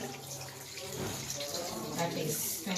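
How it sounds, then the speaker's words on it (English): A tap runs steadily for handwashing, water splashing into a sink close by in a continuous rushing spray. "First, we turn on our tap, get our soap and we wash"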